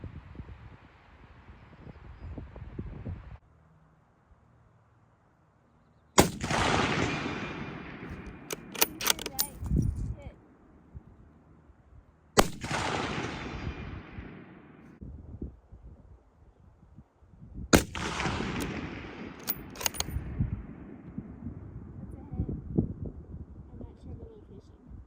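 Scout rifle shots fired at a target, four sharp, loud cracks spaced several seconds apart, each followed by a long fading echo, with quieter handling noises and brief talk between them.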